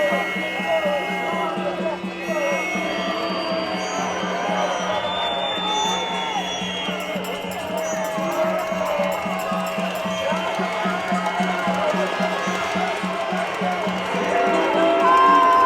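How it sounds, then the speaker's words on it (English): A crowd at a London street protest boos and jeers at people behind gates. The sustained, rowdy din carries throughout, with voices shouting among it and a steady low hum beneath. "Everybody's booing at the people behind the gates."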